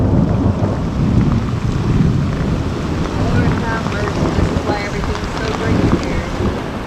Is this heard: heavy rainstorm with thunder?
yes